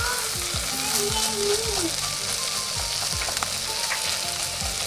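Salmon pieces frying in oil in a home kitchen pan, a steady, close, loud sizzle that holds unbroken throughout, with faint tonal sounds running underneath.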